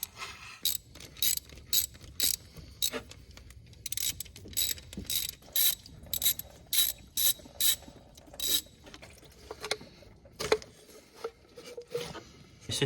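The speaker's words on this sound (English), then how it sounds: "We'll unbolt these two now and then pull it off, take the thermostat out" A ratchet clicks in short repeated bursts while loosening the thermostat flange bolts on an Audi S3 engine, close and crisp with brief pauses between strokes, fairly quiet overall.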